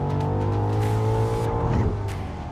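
A BMW XM plug-in hybrid SUV with a V8 accelerates hard at full throttle, its engine note loud and continuous, building and then shifting slightly near the end as a paddle upshift comes in.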